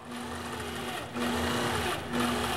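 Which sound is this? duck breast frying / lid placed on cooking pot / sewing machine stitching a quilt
sewing machine stitching a quilt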